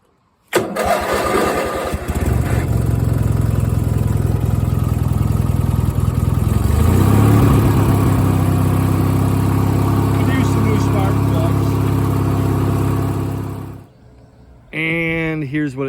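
An 18 hp Briggs and Stratton opposed twin engine with its original exhaust starts up and runs at a loud, steady idle with a throaty low drone for about twelve seconds, then cuts off; a voice speaks briefly afterward.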